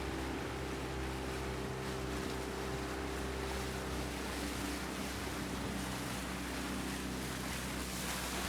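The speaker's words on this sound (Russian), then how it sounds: "наша лодка подверглась нападению больших волн" Large waves up to a metre high slap against a small fishing boat on a river in Komi, heard as continuous loud wind-driven water churn and splashing with a steady low rumble, no voices.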